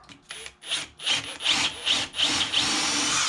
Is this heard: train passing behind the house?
no